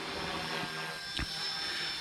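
A Blade 330S RC helicopter whines steadily nearby during 3D stunt flying, its rotor and motor tone holding constant with a brief pitch swoop as it pulls back, no talk over it.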